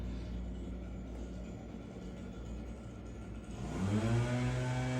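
A leaf blower runs outside, blowing off cars, a steady whirring roar that swells louder toward the end.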